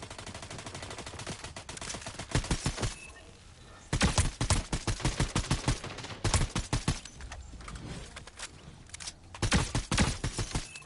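Rapid bursts of gunfire in the video game Fortnite crack out in repeated volleys and short gaps, loud and close, with quieter stretches between the bursts.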